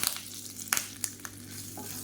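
Mustard seeds and urad dal spluttering in hot oil in a pan while tomato chutney is prepared, giving a steady sizzle broken by several sharp, close pops at irregular intervals, with no talk.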